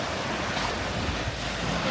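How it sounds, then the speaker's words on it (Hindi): Small waves lap on the shore of Lake Como amid wind noise, a steady soft wash of water with no distinct breaks, heard alone. "यहाँ पे लहरें आ रही हैं"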